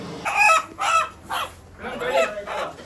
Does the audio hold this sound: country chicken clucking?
yes